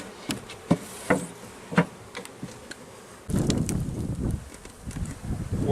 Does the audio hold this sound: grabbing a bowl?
no